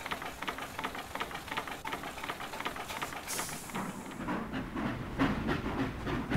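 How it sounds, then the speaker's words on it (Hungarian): A steam-powered vehicle engine in the game Spintires chugs with rapid rhythmic puffs, then a sharp burst of hissing steam gives way to a busier, louder mechanical clatter near the end. "És ez szó szerint egy gőzhajtású jármű"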